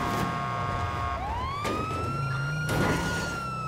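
Police car siren in a video game: a loud electronic wail that rises sharply then holds, with engine rumble underneath and brief bursts of noise, no talking.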